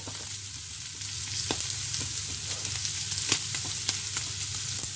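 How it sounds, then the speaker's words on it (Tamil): Onion and green chilli frying with dried anchovy in a pan, a steady close sizzle with occasional sharp crackles and pops, continuous and even, no talking. "எல்லாம் சேர்த்துட்டு கொஞ்ச நேரம் ஒருக்கா சாதுவாக மிக்ஸ் பண்ணி போட்டு திரும்பவும் அப்படியே கொஞ்ச நேரம் பொரிக்க போகிறேன்"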